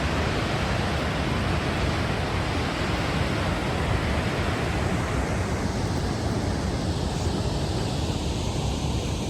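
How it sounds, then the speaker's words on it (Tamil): Rushing water pours steadily from a mountain lake's overflow falls near Juneau, Alaska, a dense, continuous roar that stays even and loud throughout with no voices. "அந்த லேக்லேருந்து எக்ஸஸ் வாட்டர் ஒரே ஃபால்ஸ் வந்து"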